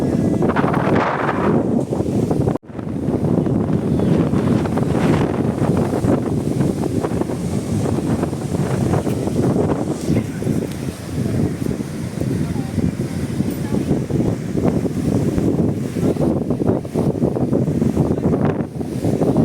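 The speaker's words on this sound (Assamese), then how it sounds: "কি সুন্দৰ বতাহ" Wind blows at the Panimur picnic spot in Dima Hasao, buffeting the microphone in a steady, loud roar near water, with voices talking over it.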